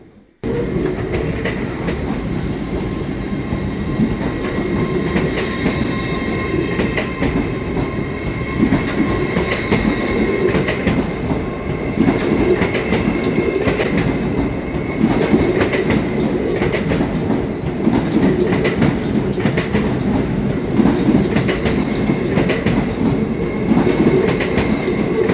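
A train at Newcastle station, having come from Edinburgh via Carlisle and the Tyne Valley Line, rumbles loudly and continuously, with rail clatter and faint wheel squeal throughout and no voices.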